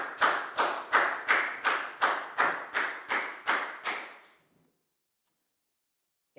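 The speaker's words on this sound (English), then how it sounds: "big round of applause for Prel." About eleven evenly spaced, crisp claps sound close and loud before stopping abruptly into near silence, an applause cue for a pupil in a Year 4 science classroom lesson.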